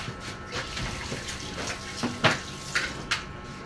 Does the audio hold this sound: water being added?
yes